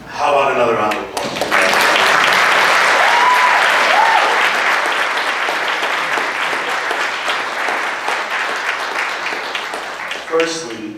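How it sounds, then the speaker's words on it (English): A law symposium audience breaks into sustained, dense applause that fills the room for several seconds, with brief speech at the start and end. "How about another round of applause?"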